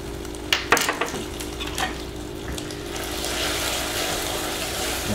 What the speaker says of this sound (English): you want to stir this up really good. Be careful, it's going to be nice and hot